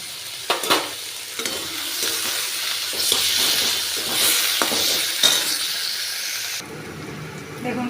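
Finely chopped medium onion frying in white oil in a wok, a steady broad sizzle with scattered clinks and scrapes of stirring, close and fairly loud, easing off near the end.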